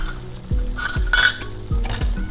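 A spoon scrapes and stirs through creamy corn sauce thickened with cornstarch in a pot, several rhythmic strokes knocking the bottom over a soft sizzle, close and alone without voices.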